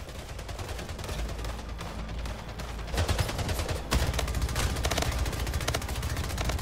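An SMG in the arena shooter Splitgate fires sustained automatic bursts, a dense rapid crackle of shots that grows louder partway through, with game effects mixed in.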